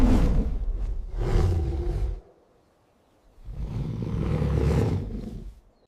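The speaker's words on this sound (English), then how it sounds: "It's a bear." A bear roars twice in long, loud, rumbling bursts separated by a short silent pause, with no one talking.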